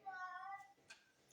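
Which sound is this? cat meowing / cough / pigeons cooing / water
cat meowing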